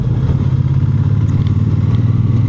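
A Triumph T120 Bonneville motorcycle, just over a year old with about 8,000 miles, rumbles steadily while riding on a European tour, its loud, low engine drone continuous and close throughout with no talk.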